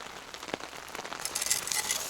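Steady rain patters at an outdoor campsite during bushcraft trout cooking, a dense broadband hiss with scattered droplet ticks that grows slightly louder and busier toward the end, with no voices.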